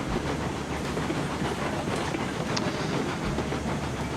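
A tank engine locomotive in the train game Railroads Online runs with a steady, continuous rumble and faint hiss, a low chugging drone holding level throughout without any talk.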